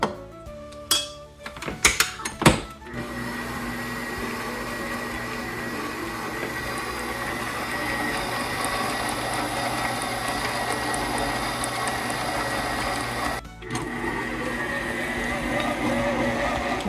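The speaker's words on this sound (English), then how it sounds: "So we'll head over to the stand mixer and finish up the mixing." Stand mixer beating flour into Scottish shortbread dough, a steady mechanical whir with a rhythmic clicking gear-like rattle running continuously after a few brief knocks at the start, with a short pause near the end.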